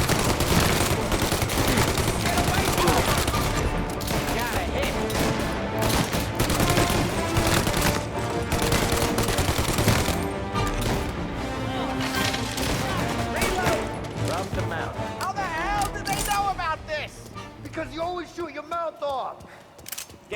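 Rapid bursts of gunfire, including Tommy gun fire, during a gang ambush on a trade deal in Mafia Definitive Edition, loud and dense, with shouted game voices and commentary over the shooting before it thins out near the end.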